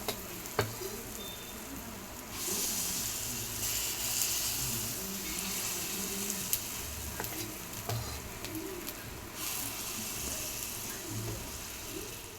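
Ghee sizzles in a paniyaram pan as egg paniyaram fry, a soft, continuous crackle that swells at times, with faint bird cooing in the background.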